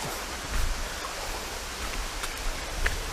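Steady broadband rush of falling water at a waterfall roughly four metres deep, a constant wash with a few faint low bumps, moderately distant.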